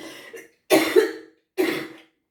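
Three dry coughs close together, the first weaker, then two louder bursts separated by a short pause, with no talking.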